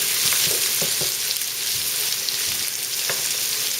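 Cauliflower sizzling in a pan on high heat, a loud steady crackling fry with several soft stirring knocks, close and without talk.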